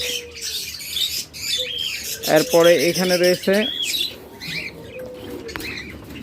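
Big albino red-eye birds chirp and call in a cage. Their calls come in short, rapid bursts through the middle, with a few wing flutters, and someone speaks over them.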